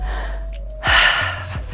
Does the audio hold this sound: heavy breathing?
yes